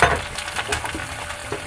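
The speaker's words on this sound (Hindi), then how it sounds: "अब हम इसमें जो चॉप्ड ओनियन रखी थी उसको ऐड करेंगे।" Chopped onion hitting hot oil seasoned with ajwain in a pan for Punjabi rajma, an immediate close hiss of sizzling frying with light stirring scrapes over a steady crackle.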